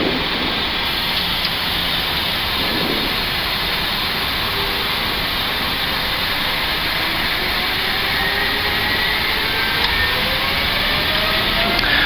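Airbus A330-900 jet engines roar through takeoff from inside the cockpit, a loud, steady, broadband rush with rumble underneath that holds for the whole stretch.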